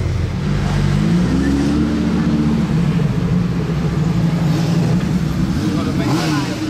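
A Lamborghini Huracan passes on a Monaco street, its engine a steady loud drone that rises slightly as it goes by, with crowd and traffic noise around.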